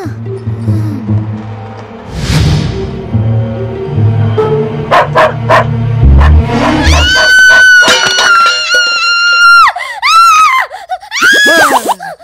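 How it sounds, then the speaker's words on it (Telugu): A dog barks and yelps several times in quick bursts, loud and close, with people shouting and a high screaming voice joining in, in a movie scene. "అరిసింది కుక్కే కదండి, ఎందుకంత భయపడతారు?"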